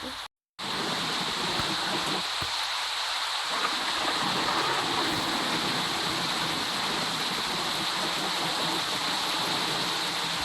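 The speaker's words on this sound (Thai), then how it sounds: "ลูกนี่ฝนบ้านเราตกเลย" Steady heavy rain falling at a home, a dense continuous hiss that starts abruptly after a brief gap and stays loud and even throughout.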